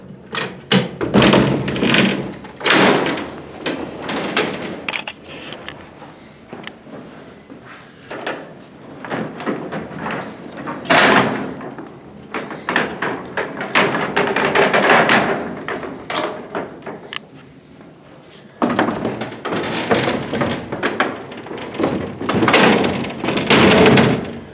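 Heavy wooden gates on a 1927 freight elevator are worked open with repeated thumps, scrapes and rattling bangs, close and loud throughout, pausing briefly before resuming.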